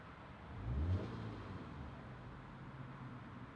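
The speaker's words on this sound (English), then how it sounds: "Let's go ahead and start it up." A 2017 Subaru Legacy 2.5i Premium's 2.5-liter engine cranks and catches with a brief low surge, then settles into a steady, quiet idle hum nearby.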